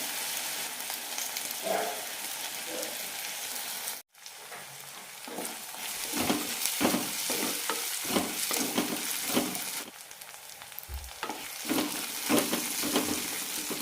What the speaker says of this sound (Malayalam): തക്കാളി നന്നായി വെന്തടയുന്ന വരെ വഴറ്റിയെടുക്കാം